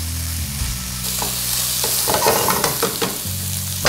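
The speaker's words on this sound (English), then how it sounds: "now we're going to add in the shiitake mushrooms and cook it out for another" Shiitake mushrooms and pork frying in a hot pan, a steady close sizzle broken by several clattering stirs and scrapes of the utensil, with no talking.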